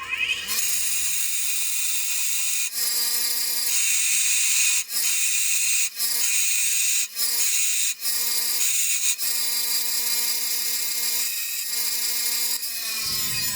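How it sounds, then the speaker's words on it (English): An angle grinder whines steadily and loudly as it grinds down a rear axle slider for a Kawasaki KLX140 mini supermoto, dipping briefly several times mid-cut before spinning down near the end. "So we're just going to go grind this down to where the black is."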